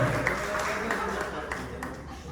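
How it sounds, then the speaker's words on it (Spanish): Church congregation applauding together, a steady even wash of clapping at moderate distance filling the whole moment, with voices faintly mixed in. "Denle un aplauso al Señor"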